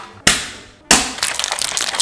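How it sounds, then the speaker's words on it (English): Ice cubes dropped into a cocktail shaker holding orange liqueur and blanco tequila for a spicy margarita, two sharp crashing rattles close up, the second followed by clinking and settling. "Adding a little ice."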